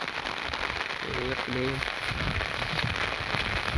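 Steady rain patters onto a tractor in a farm field, a constant close wash of drops, with a voice speaking briefly partway through.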